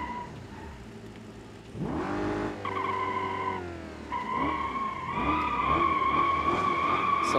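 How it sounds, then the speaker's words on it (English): A Hemi V8-swapped Miata in the BeamNG driving game revs hard, its engine note climbing and dropping through shifts, with a high tire squeal and whine layered over the steady engine roar. "Someone for real put a Hemi V8 into a Miata."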